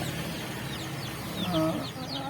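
Native backyard chickens cluck a few short, soft notes against a steady background hum, with one clearer call standing out near the end.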